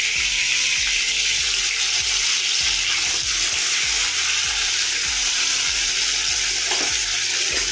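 Fish frying in hot oil in a wok, a steady loud sizzle throughout with repeated soft clinks and scrapes of a utensil at a rough regular pace, no voices.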